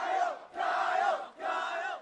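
A large crowd at a big party in Normal cheers and shouts in three loud, sustained bursts of massed voices with brief dips between them.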